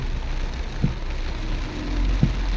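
Heavy rain pours down on a flooded road at night while a small minivan pushes through the water, a dense steady wash of rain with low vehicle rumble and a couple of soft thumps.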